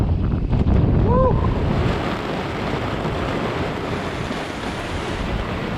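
Strong wind over rough open sea, heard from a boat in rain, a loud continuous roar of gusts buffeting the microphone with surf washing underneath; a brief faint voice sounds early on.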